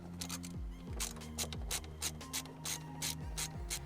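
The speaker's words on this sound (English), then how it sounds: "The T25 is gonna go right here, and you're gonna start to take apart how that seat is held in." A T25 Torx tool works a rear seat fastener loose in a Mercedes-Benz, giving repeated close ratcheting clicks in quick bursts with short metallic scrapes between them, alone with no talk.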